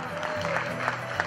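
Crowd applause at a muleteer and mule competition for bulky loads, a short outdoor burst of clapping with a murmur of voices mixed in.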